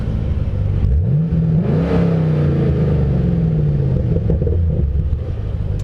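Chevrolet Camaro SS V8 revved once, pitch climbing then sliding back down to a throaty idle rumble as the exhaust flaps open, close and loud with no speech.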